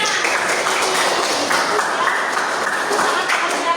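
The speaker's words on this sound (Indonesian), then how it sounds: "Oke, tepuk tangan." Students applauding in a classroom during a teaching practice session, a dense, steady burst of many hands clapping at close range, with some speech mixed in.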